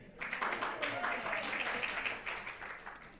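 Applause from a congregation at a Friday evening Shabbat service, a steady wash of clapping that rises quickly and holds for about three seconds, with a few voices mixed in.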